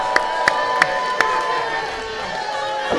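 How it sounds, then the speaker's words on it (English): Crowd noise at a PrideStyle & West Coast Pro wrestling match: a steady roar of cheering in the arena, punctuated by a few sharp, loud impacts early on before settling into sustained crowd sound. "This crowd very, very pleased with Chris Nasty."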